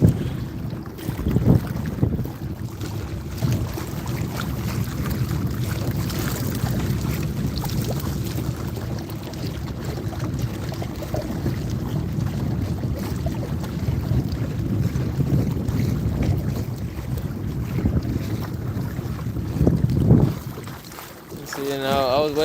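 A modified kayak pushed along by its small electric motor at full blast, giving a continuous low drone and splashing water over heavy wind buffeting, with a voice briefly speaking near the end.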